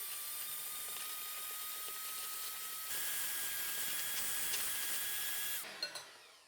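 A stand mixer whirs steadily as it beats half a block of cream cheese, its motor whine stepping up in pitch partway through, then cutting off and leaving a few light clicks.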